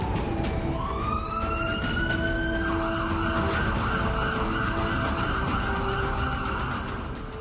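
Police cars in the city of Jingshi, China, sirens wailing continuously with rising and held tones over road traffic noise, loud and close throughout.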